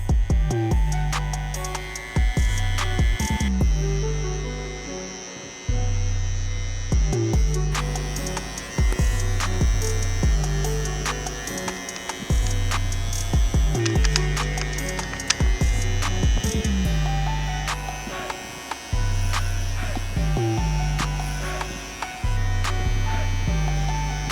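A T-Outliner electric hair trimmer traces a heart design in hair, giving a close, loud buzzing hum in repeated bursts separated by brief pauses, with no talk.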